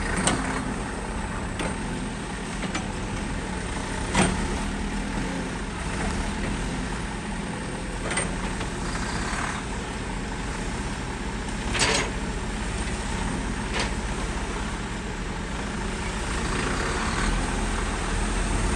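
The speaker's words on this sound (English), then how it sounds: "can this truck with the big pump" A truck carrying a big cement pump drives slowly past two pillars near a cistern, a steady low engine rumble with occasional knocks and clanks, fairly close and without talk.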